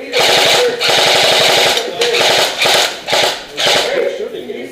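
Airsoft guns fire in rapid full-auto bursts during an outdoor skirmish game, loud and close, with several strings of shots separated by short pauses while players shout and talk over the action.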